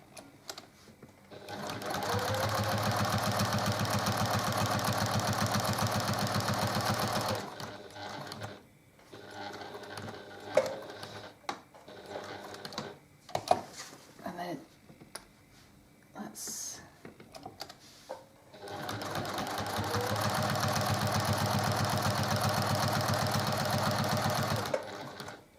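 A sewing machine stitches a zig-zag quilt block in two long, steady runs of close, loud whirring, with quieter fabric handling and clicks in the pause between them.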